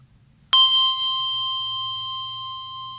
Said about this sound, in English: If you play one bell